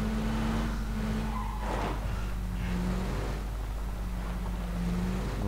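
A car in PUBG driving with a steady engine drone, with rough tire and skid noise building and washing over it, loud and continuous.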